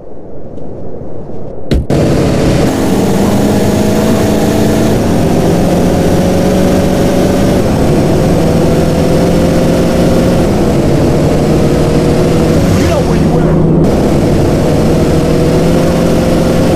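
A car engine runs in the video game GTA San Andreas, a loud, steady low rumble with a droning hum that kicks in abruptly after a brief opening and holds continuously to the end.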